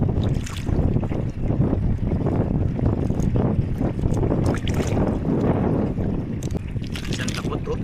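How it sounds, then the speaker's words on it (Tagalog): Strong wind buffets the microphone in a constant rough roar on a shore where mussels are gathered, with faint voices underneath. "Tapos medyo malakas po yung hangin."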